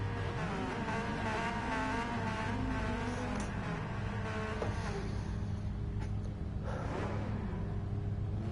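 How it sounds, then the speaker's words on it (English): Racing car engines in the video game Gran Turismo 7 whine and roar in the distance, with pitch rising and falling as cars accelerate, a steady mechanical din throughout. "noisy sounds that the cars are making."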